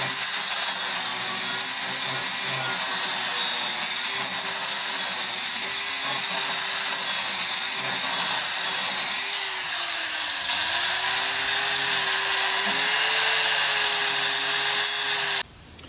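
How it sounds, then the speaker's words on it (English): A power tool whines steadily and loudly while sharpening the blades on a John Deere X728 mower with a Swisher 60-inch deck, grinding continuously with brief dips in pitch. "I'll sharpen the blades while they're on the mower."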